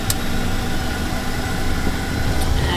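An aircraft turbine engine runs steadily after start-up, a loud, continuous broadband roar with a constant hum that stays level throughout.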